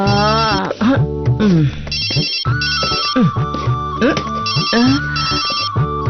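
A telephone rings with a repeating electronic ringtone, loud and close, in bursts that cycle throughout while a voice talks over it.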